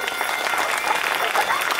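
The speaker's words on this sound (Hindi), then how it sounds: "सनातन धर्म के लिए जोर से ताली बजाइए।" A crowd at a Hindu religious discourse applauds in a dense, steady burst of clapping that fills the short stretch without breaks.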